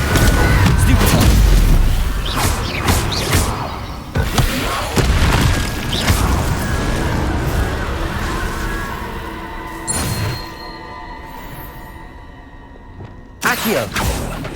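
A Stupefy spell hits in the Hogwarts Legacy video game with a loud booming impact, then dense crashing and rumbling effects that fade and flare again, while a voice talks through it.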